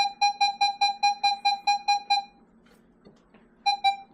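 Metal detector tone for a dime, beeping in a quick steady rhythm, about eleven clear pulses, a short pause, then two more beeps, close and distinct.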